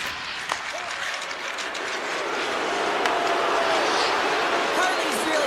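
Loud crowd roar jeering from the home fans in an eHockey video game, a broad continuous wash that swells slightly and holds steady, with a commentator talking over it.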